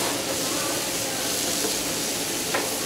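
Mushrooms and vegetables (onions, carrots, diced celery) frying in a hot pan for osso buco, giving a steady broadband sizzle that holds even and close throughout, with one small clatter near the end.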